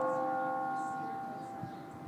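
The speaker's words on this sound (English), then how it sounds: "Even Vladipoo has to yield to the bells of Boom." Bells ring with a steady, resonant metallic tone that hangs and slowly fades, moderately distant and alone without talk.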